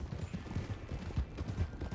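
Horse hooves clip-clop steadily in Red Dead Redemption 2, a dense rhythmic patter of steps close by over a busy low rumble, with no voices in between.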